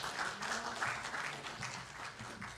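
Audience applause at a drone industry forum in Korea, steady dense clapping from a crowd as a session host is welcomed to the stage, moderately loud and continuous.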